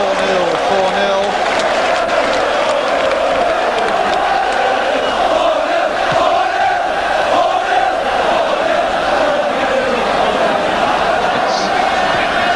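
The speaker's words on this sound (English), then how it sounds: "it's not often that the Newcastle crowd have been able to chant 4-0, 4-0." Newcastle football crowd at a 1986 home match against West Ham roars and chants loudly and continuously, a dense mass of voices filling the whole stretch beneath a commentator's talk.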